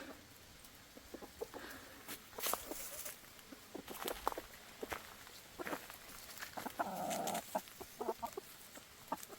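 Quiet, irregular clucking from chickens scratching in the dirt outside their coop on a rainy rural evening, short calls over a light patter, including one longer, louder cackle partway through.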